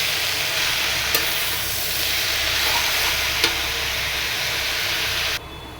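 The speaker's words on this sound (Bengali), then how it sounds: "এখন কাটা শাকগুলি দিয়ে দিই। বিসমিল্লাহির রহমানির রহিম দিয়ে দিলাম। এখন নাড়াচাড়া দিব।" Chopped greens stirred into onion and garlic frying in hot oil give a steady, loud, close sizzle throughout, with a couple of sharp scraping clicks, before it cuts off abruptly near the end.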